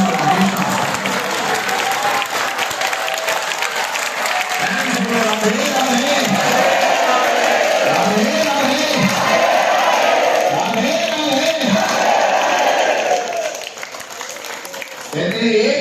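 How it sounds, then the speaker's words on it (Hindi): Large audience at a Hindu religious discourse claps steadily and cheers in a loud, sustained burst lasting many seconds, with voices calling out over the applause before it fades. "एक बार हाथ ऊपर करो और एक बार प्रेम से ताली मार के हंसिए"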